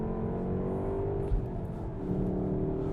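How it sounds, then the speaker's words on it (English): VW Golf R engine revving under acceleration, a steady loud drone heard from inside the cabin, with the pitch holding and then rising slightly. "when you put your foot down, you can hear the engine very,"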